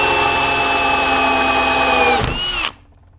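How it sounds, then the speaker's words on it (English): A power drill boring holes while laying out parts for container projects at a Tennessee holiday home: loud, continuous high motor whine, pitch sagging slightly under load before the trigger releases and it stops abruptly. "what we're laying these out and drilling holes here"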